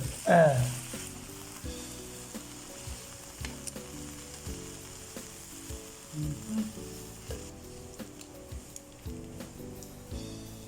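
Bacon strips frying in a pan, a continuous close crackling sizzle with occasional pops and a brief scrape at the start, steady and moderately loud with no voices over it.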